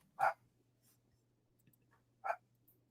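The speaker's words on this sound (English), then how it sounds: "My dog was barking." A dog barking in a quiet room, two short faint barks spaced about two seconds apart over a low steady hum, no talk.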